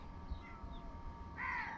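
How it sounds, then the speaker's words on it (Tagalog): Large crows give harsh caws, with one faint call early on and then a louder, nearer caw at the end over a low steady background. "Malalaki yung mga uwak na yan, parang mga kalapati."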